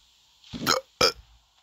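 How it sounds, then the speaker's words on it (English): A short hiccup followed a moment later by a quick burp, two brief close-up bodily sounds in otherwise quiet surroundings. "That was a hiccup and a burp."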